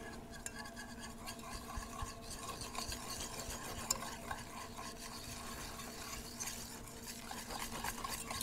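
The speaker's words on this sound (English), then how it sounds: "now we're going to stir in our sugar" Sugar being stirred into brownie batter off the heat, a continuous close scraping swish of a spoon through thick mixture, low and steady with no voices.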